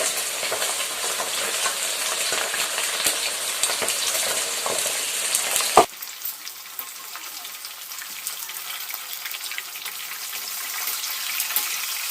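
Rice frying in a pan for Nigerian fried rice: a loud, dense sizzle for about six seconds, then a sharp knock, after which the frying drops to a much softer, thin crackle.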